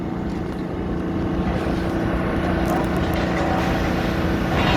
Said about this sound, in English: that noise you can hear is water being sprayed